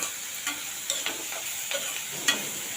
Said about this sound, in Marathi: आता यामध्ये मी जी मिरची घेतली होती ती घालणार आहे